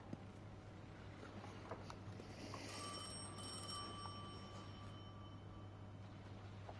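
Telephone ringing in the Destiny 2 video game, a faint, steady electronic trill over a low droning hum, with no voices over it.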